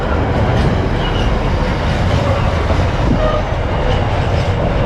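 A very long freight train hauled by a diesel locomotive rolls through Middlesbrough station, giving a loud, steady rumble of wagons with rhythmic clickety-clack over the rails, passing close and continuously with no voices.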